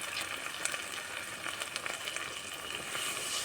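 A village-style Bengali fish and taro stolon curry hisses and sizzles steadily in the pan as a little water goes in, a dense, even frying crackle throughout with no voices.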